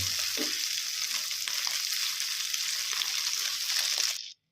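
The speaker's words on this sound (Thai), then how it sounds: "ทอดไปเรื่อยๆนะครับให้แป้งเขากรอบเท่านั้นเองนะครับผม" Battered mussels frying crisp in a pan of oil: a steady, loud, hissing sizzle that holds evenly for about four seconds, then cuts off abruptly.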